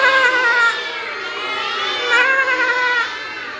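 Children imitate a goat's bleat, a chorus of young voices in a classroom animal-sounds activity, loud and wavering, sustained over several seconds with a few swells.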